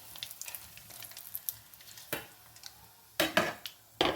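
Curry leaves dropped into hot oil in a pan for chicken gravy, crackling in short bursts with a couple of loud sharp spatters over a low sizzle.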